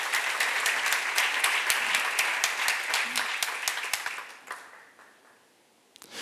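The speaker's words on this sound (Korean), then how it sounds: "본 사람만 박수하세요" A church congregation breaks into steady, rhythmic applause that goes on for several seconds, then thins out and fades to near quiet.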